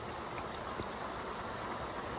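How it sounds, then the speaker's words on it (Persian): Heavy rain pours down in a canyon, a dense, even hiss of falling water filling the whole stretch with a few faint pattering drops standing out, with no voices. "نگاه کن چقدر بارون میاد."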